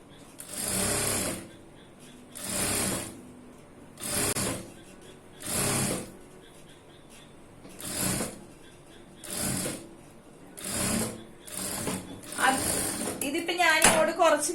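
Sewing machine stitching a cross piece on a blouse, running in regular short bursts of about one second with brief pauses between, ending in a longer run with clattering and someone talking softly in the background.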